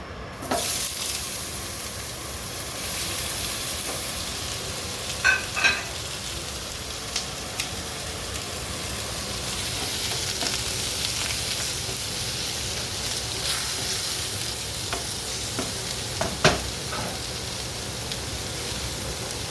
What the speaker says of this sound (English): I just added cold onion to my pan